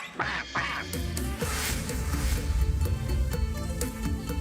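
Repeated loud duck quacks ring out in quick bursts over a noisy background with music-like tones, close and insistent.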